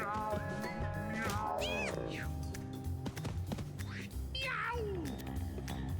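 Several cats meow and yowl in Mewgenics, a gritty cat-breeding video game, with rising and falling cries mixed over busy game music and effects, and voices in the background.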